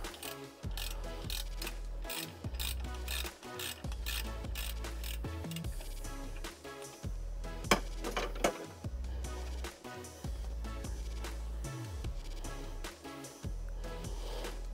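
A socket ratchet clicks repeatedly while backing out a bolt on a MerCruiser drive, giving rapid close-up bursts of pawl ticking with brief pauses and metallic clinks between strokes.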